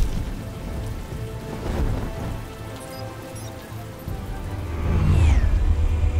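Rain and rumbling thunder in the Batman: The Telltale Series video game, a steady wash of rain throughout with a louder, deeper swell of thunder near the end.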